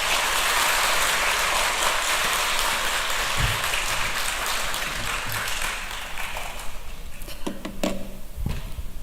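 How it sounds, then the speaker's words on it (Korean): Church congregation at a Korean worship service applauding to welcome a pastor, dense sustained clapping that thins out and fades toward the end, leaving a few scattered claps and small knocks. "나오실 때 우리 박수로 환영합시다."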